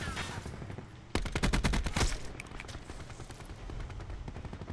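Loud automatic gunfire in Black Ops 4 starting abruptly as a fast close burst, then continuing as lighter distant shots over game background noise.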